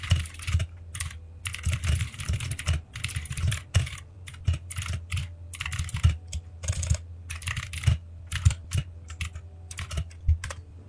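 Steady typing on a computer keyboard, entering a meal-planning request, with fast irregular clatters of keys through the whole stretch and no voices.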